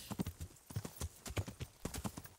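Rhythmic hoofbeats of a horse in a video game, quick repeated clip-clop strikes in an irregular galloping pattern, faint and fairly quiet with no talking over them.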